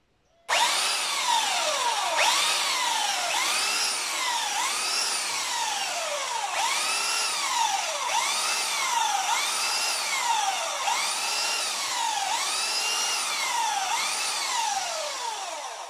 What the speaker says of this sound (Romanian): O să șlefuiesc acum partea din interior.